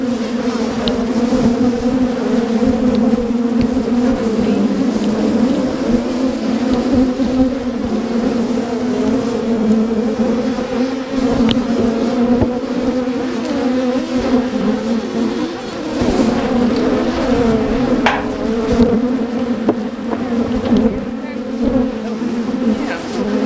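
Honeybees swarm around a swarm trap hive, making a dense, loud, steady buzz that holds close for the whole stretch without pause.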